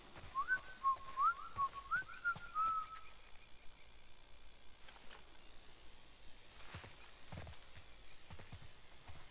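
A character in The Last of Us Part I whistles a short, wavering tune for about three seconds, fairly clear over quiet ambience and soft hoofbeats, then falls silent.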